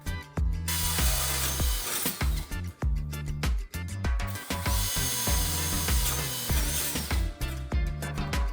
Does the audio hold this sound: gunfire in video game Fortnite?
no